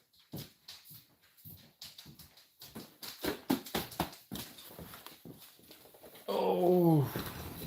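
A German Shepherd dog whimpers and whines close by in a series of short, uneven whines and snuffles, then lets out a longer, rising whine near the end.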